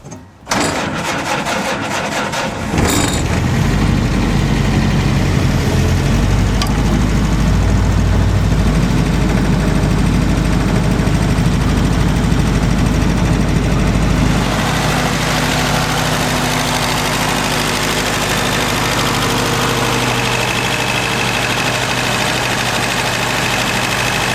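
A World War II Willys MB jeep engine starts after a few seconds of cranking, then settles into a steady, loud idle that shifts slightly in tone partway through.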